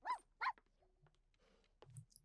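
Two sharp barks from a dog in The Sims 4, close and clear near the start, followed by faint game effects and a low rumble toward the end.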